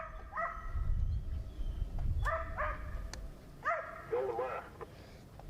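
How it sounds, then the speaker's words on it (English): Hunting dogs chasing deer in the woods, several distant barks and yips in short bursts, with a low rumble and people talking underneath. "dogs are coming on it now"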